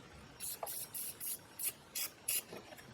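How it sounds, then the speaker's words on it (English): Penetrating oil sprayed onto bolts on a Ford F150 with the intake snorkel removed, heard as a series of about eight short hissing aerosol bursts in a steady rhythm, close and fairly quiet, with no talking. "I'm just going to shoot it with some penetrating oil, just to help break it loose"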